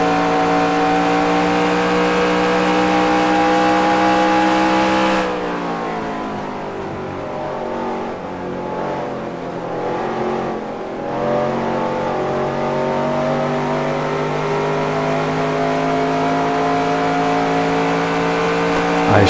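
A NASCAR stock car in the NASCAR Racing 2003 simulation at Pocono roars at high revs, holding a steady engine drone, then drops off as the throttle lifts and climbs back into a sustained high-pitched whine, loud and close with no talk.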